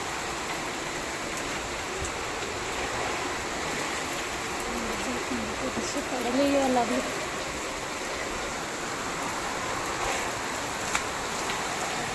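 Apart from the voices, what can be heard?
sudden heavy rain with wind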